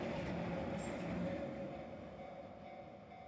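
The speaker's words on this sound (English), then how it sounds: "Barry filmed the train going round the bend." A green Keihan train on the Ishiyama Sakamoto Line by Lake Biwa rounds a bend at a distance, a low rolling rumble with a faint wheel whine that gradually recedes and quiets.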